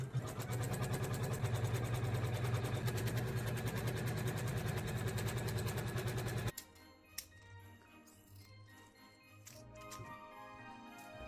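A sewing machine runs steadily and loudly for about six seconds as it stitches together layers of synthetic padding and base fabric for a handmade Christmas stocking, then stops, leaving faint handling clicks and rustles.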